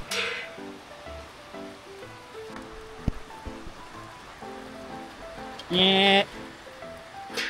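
Rain falls outdoors during a lightning storm as a steady, even hiss, with voices and other sounds over it.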